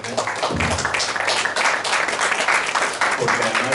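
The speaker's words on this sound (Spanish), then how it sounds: "un aplauso para Irene." Audience applause at a book presentation event, a dense, steady wash of clapping hands lasting the whole stretch at fairly close range, with no speech over it.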